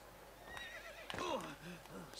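A horse whinnies with a wavering, rising and falling call, faint hoofbeats and quiet talk around it, in the video game Assassin's Creed Brotherhood.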